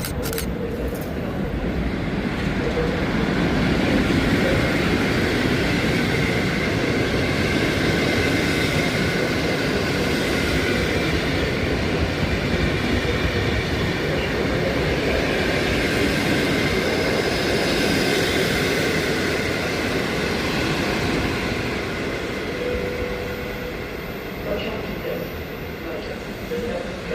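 A train rolls through Poznań Główny station with a long, steady rumble and broad hiss. A public address announcement in Polish plays over it.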